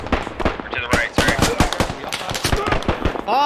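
Cannon fire and 30 mm automatic gunfire in the Squad video game, with rapid sharp bursts and heavy thuds cracking in irregular rhythm, loud and close, with voices speaking briefly between shots.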